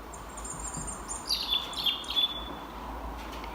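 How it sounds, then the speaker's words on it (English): Several short, high bird chirps over a faint steady hiss, a quick cluster of close tweets lasting a moment or two. "What sound does a bird make?"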